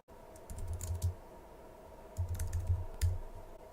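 Fingers type on a computer keyboard in two short bursts of quick, soft clicking separated by a pause, close and fairly quiet with no other sound.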